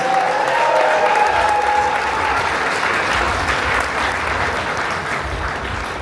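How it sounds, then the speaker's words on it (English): Loud, sustained applause fills a wedding reception room as guests clap for the newly married couple, a dense steady roar with crowd noise throughout. "can we get a big round of applause for Parth Cycling?"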